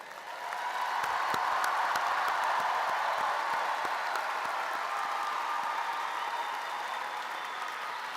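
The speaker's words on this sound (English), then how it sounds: "Let us join in tribute with a rousing round of applause for today's promising young doctors." Audience at a medical school commencement ceremony applauding the graduating doctors, a broad, sustained wash of clapping from a large crowd, swelling in and holding steady and loud.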